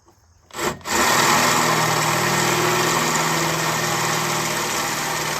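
A step drill bit bores through the housing of a Panasonic Quasar 8,000 BTU split-style window air conditioner, opening with a brief bump, then settling into a loud, steady grinding whine that runs unbroken to the end.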